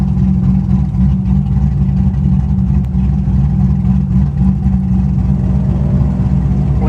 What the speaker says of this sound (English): Pretty much gonna bet that there are no mufflers on this car at all